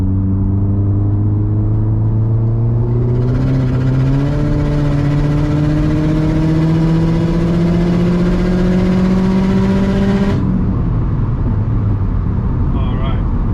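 A Subaru WRX STI S209 on E85 fuel revs hard as it accelerates, its engine note climbing steadily for several seconds before cutting off abruptly, loud and close, with a lower rumble carrying on afterward.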